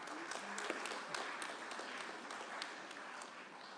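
Audience applause at the Kenya-U.S. Business Forum signing ceremony, a dense steady patter of many hands clapping, moderately distant and fairly quiet, holding for a few seconds before tapering slightly.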